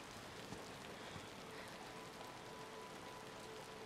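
Rain falls steadily in a film scene, a soft, even hiss of drops on surfaces with no pauses, faint and distant throughout.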